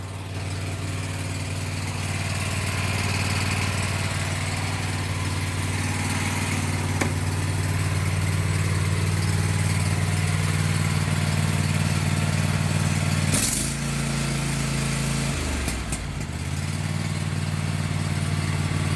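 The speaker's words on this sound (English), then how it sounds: "There's that beautiful engine that always purrs." A Cub Cadet XT1 LT46 riding lawn mower engine idles in a steady, close, low hum after a cold start without choke, with a brief dip and shift in pitch partway through and no talk.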